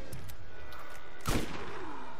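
A single gunshot from a weapon in the video game Borderlands, one sharp loud crack standing out briefly over the steady game background.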